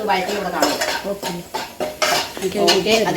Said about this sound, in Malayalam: നല്ലപോലെ ഇളക്കി വഴറ്റി കൊടുക്കാം